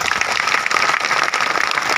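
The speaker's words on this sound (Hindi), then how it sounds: "सबसे पहले आप अपने लिए एक बार ताली बजा करके अभिनंदन करिए दोस्तों" Dense, steady applause from a large crowd at an outdoor Adivasi rights rally fills the whole stretch, loud and continuous with no pauses.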